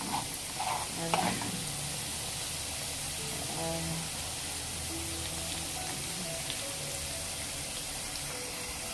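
Avocado pulp cooks in a pan with a soft, continuous sizzle, while a utensil stirs and scrapes against the pan in irregular clinks and knocks, heaviest in the first couple of seconds.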